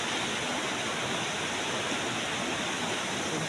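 River water rushes loudly and continuously near a footbridge on the way to a farm, a dense, even roar close by with no voices.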